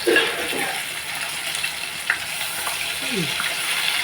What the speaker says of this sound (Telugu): ఇంకో రెండు ముక్కలు ఉన్నాయండి అవి కూడా వేపేస్తాను